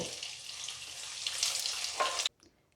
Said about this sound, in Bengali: তেলটা গরম হলে আমি এর মধ্যে নুন মাখানো পনিরগুলোকে দিয়ে ভেজে নেব।